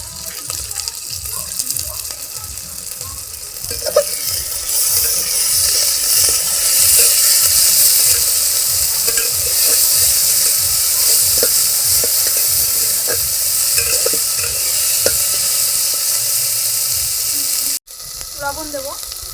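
Spice paste for chicken do pyaza fries in a pan with a loud, steady hiss and crackle, while a spoon stirs and scrapes throughout, up close, cutting off briefly near the end.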